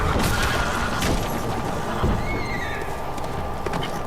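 Horse neighing and whinnying in The Witcher 3: Blood and Wine, with clip-clop hooves and dense game ambience beneath, loud and continuous throughout.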